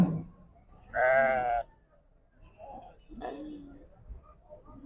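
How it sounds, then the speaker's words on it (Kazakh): Sheep with young lambs bleat at Karabulak livestock market. One loud, drawn-out bleat rings out close by, followed by fainter calls, while people talk in the background. "Қозылы қойлар."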